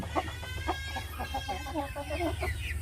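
Rhode Island Red chickens cluck and call in a backyard flock, a busy overlapping chatter of short clucks and crowing notes over a steady low background hum.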